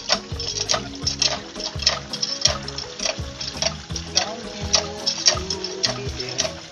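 Water runs from a faucet, a continuous splashing hiss with rhythmic ticking, knocking sounds repeating throughout, close and fairly loud, with no talk.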